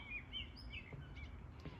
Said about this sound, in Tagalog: Ibon na maya ba? Ang ingay nila pag minsan.